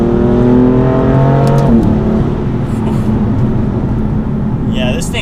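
A BMW M4 Competition's engine drops pitch on a downshift, then pulls and builds power with a loud, steady roar inside the car while someone talks over it.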